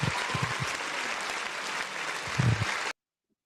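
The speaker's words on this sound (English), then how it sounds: "My applause is not working." Canned applause sound effect: a dense, steady wash of many hands clapping, fairly loud and close, that runs for about three seconds and then cuts off abruptly into silence.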